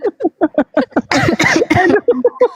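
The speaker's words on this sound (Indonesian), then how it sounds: "Sampai batuk" A person coughs in a loud, rough burst amid other voices, with rapid speech-like syllables on either side.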